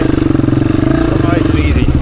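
A Honda XR dirt bike engine pulses loud and close while riding tight technical off-road terrain, a rapid throbbing exhaust beat with rising revs toward the end, with a voice talking over it.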